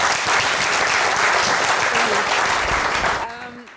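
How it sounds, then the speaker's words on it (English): Audience applause for a finance breakout panel in a lecture theatre, dense and steady clapping from a crowd that fades out toward the end as a voice begins to speak. "let's just give the panel a round of applause"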